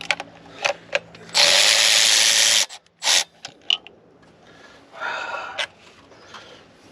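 Electric impact tool removing bolts from a 2003 Ford F350 6.0L engine during a water pump replacement, firing in a loud sustained whir, then short bursts and clanks, close up.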